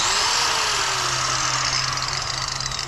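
An angle grinder fitted with a chainsaw blade whines loudly and continuously at close range, its steady high-pitched grinding holding for a few seconds with a slight wavering toward the end.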